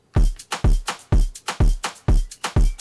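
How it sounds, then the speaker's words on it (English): Brazilian phonk beat with shakers layered over the drum rhythm: hard, booming kick hits in a steady, punchy pattern, with bright shaker and percussion ticks between them, loud and close, no voices. "With the shakers, it sounds like this."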